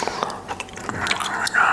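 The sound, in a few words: loud gum chewing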